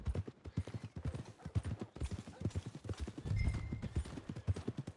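Horse hooves clip-clopping at a steady walking rhythm on a road in a Western open-world video game, close and clear, with faint ambient sounds behind.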